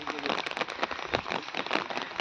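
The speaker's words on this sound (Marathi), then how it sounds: "कोकणात भरपूर पाऊस पडतोय सध्या दोन दिवसापूर्वी आज पण पडतोय हे बघा" Rain falling steadily over green monsoon countryside in Konkan, near Niwe Budruk, Devrukh, heard as a dense patter and crackle of drops on surfaces, close and continuous with no voices.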